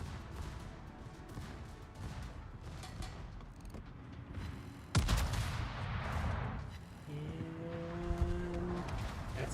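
Battleship guns firing in World of Warships, aboard the Georgia: a sudden sharp blast breaks a low rumbling background, and a heavy rolling roar follows, with tonal game sounds near the end.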